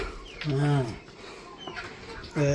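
Village country rooster, held by hand in a farm field, giving a few loud clucking calls with a gap between them, while people talk nearby.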